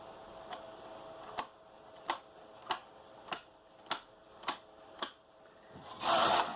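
Knitting machine carriage pushed across the bed row after row, a regular series of about nine sharp clacks roughly every half second, close and fairly quiet, ending in a brief louder rushing scrape.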